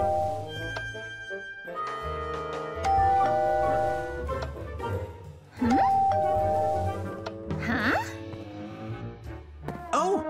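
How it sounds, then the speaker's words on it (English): In a Minecraft house, a chiming ding-dong doorbell rings out amid bright glassy tones and layered game music, with a few brief vocal sounds and swooping effects. "Ding dong!"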